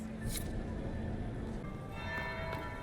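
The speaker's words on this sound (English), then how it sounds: "That's the bell." A bell tolls in Dragon Age: Inquisition, a resonant ringing tone sustained over a low hum of background ambience, moderately faint and with no voices over it.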